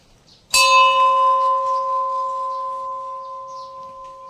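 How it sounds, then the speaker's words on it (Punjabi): A single strike of a hanging house bell in Naggar, Himachal Pradesh rings out loud and clear after a brief quiet moment, its bright metallic tone slowly fading over several seconds. "ਇੱਥੇ ਇਲੈਕਟ੍ਰੋਨਿਕ ਬਿੱਲਾਂ ਦੀ ਜਗ੍ਹਾ ਨਾ ਇਹੋ ਜਿਹੀਆਂ ਘੰਟੀਆਂ ਲੱਗੀਆਂ ਹੋਈਆਂ ਨੇ"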